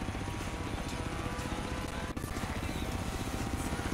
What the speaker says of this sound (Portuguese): Agora esse helicóptero viajando aqui